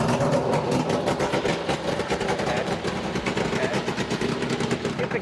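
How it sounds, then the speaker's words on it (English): A race car's V8 engine idles at an oval raceway, giving a loud, steady, rumbling drone that continues without a break from start to finish. "I want to hear how this engine sounds."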